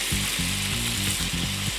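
Carne asada sizzles loudly on a grill, a dense crackling hiss, with a low rhythmic whirring pulsing underneath it.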